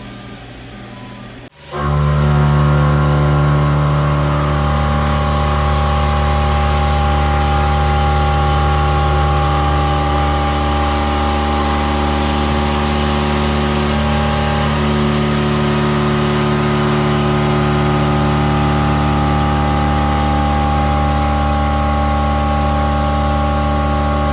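A milling machine cuts custom truck brake brackets, giving a loud steady machining drone with sustained tonal whine that starts abruptly after a brief quiet opening and holds constant to the end.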